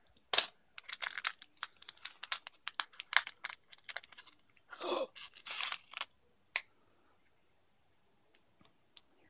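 An INWO trading card booster pack wrapper sliced open and pulled apart, giving sharp close crinkles and crackles in bursts, then a few isolated clicks before quiet.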